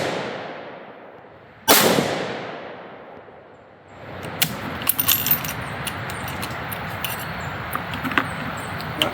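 A single sharp, loud .308 Winchester rifle shot firing a 165-grain test load with Staball Match powder, its blast decaying over about two seconds, followed by outdoor rustling and handling noise.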